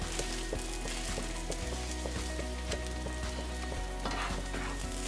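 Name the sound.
spinach sizzling and stirred in a pan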